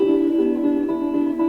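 A patched-together guitar track with a filter applied, heard as a muffled, steady sustained tone with a strong low-mid hum and soft repeated pulses, alone and without voices.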